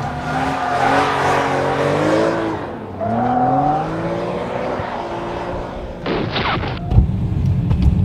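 A BMW M3 E46 drifting on a race circuit: a loud engine note rising and falling through the gears, then tire squeal and sharp bursts near the end, heard close from inside the car.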